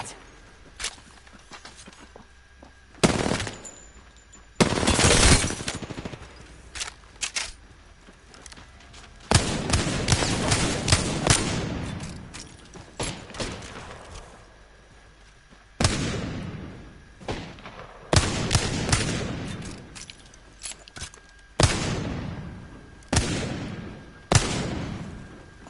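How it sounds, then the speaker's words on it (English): Video game gunfire comes in irregular loud bursts of cracks and thuds, separated by quieter stretches, sharp and close with heavy impact. "Getting shot at."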